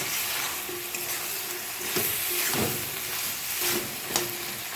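Masala is stir-fried slowly in a wok after a splash of water, a dense steady sizzle with periodic scraping strokes of a spatula, close and without talk.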